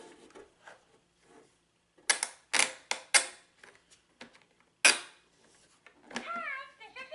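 Plastic toy parts on a Sesame Street Lights 'N Sounds Elmo's School Bus are worked by hand, making a handful of sharp, close clicks and clacks at irregular intervals, with softer handling noise in between.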